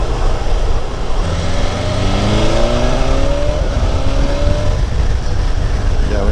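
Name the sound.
BMW motorcycle accelerating with quick shifter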